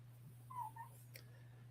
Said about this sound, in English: let me let this fucking dog out